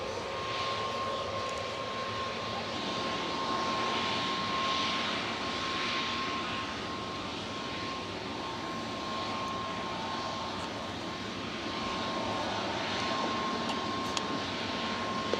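Engines of an Airbus A321neo, registration TC-LTO, at Manchester Airport give a steady, moderately distant jet whine and roar with a constant humming tone, heard alone without speech.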